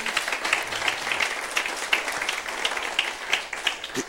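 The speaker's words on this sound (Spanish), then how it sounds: "Dale ese aplauso de exaltación a Él." Church congregation clapping in exaltation during a Sunday morning service: brisk, fairly even applause with distinct rhythmic claps pulsing through it, a few cheers rising near the end.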